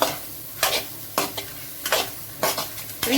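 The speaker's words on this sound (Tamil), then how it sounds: "இது சும்மா வதக்கினா போதுங்க, ஒரு 2 செகண்ட், அவ்வளோதான்." Mint leaves sizzle steadily in a hot pan while a utensil stirs them in short, repeated scraping strokes, close and fairly quiet.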